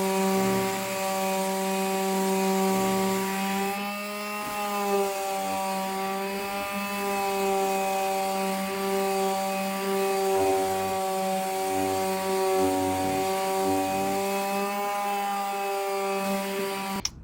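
Power sander running with 60 or 80 grit sandpaper on an antique wooden entry door, a steady loud motor whine with a constant droning hum that holds for the whole stretch and slightly shifts in pitch.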